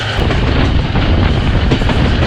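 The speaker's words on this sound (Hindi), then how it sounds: "FTL 16 लोकोमोटिव की बहुत ही आउट क्लास चेकिंग सुनाई दे रही है आपको" A passenger train hauled by an FTL 16 locomotive runs on rails through Chani Kot station on a curve, a loud, continuous rumble with rapid rhythmic clatter of wheels over track joints, heard up close.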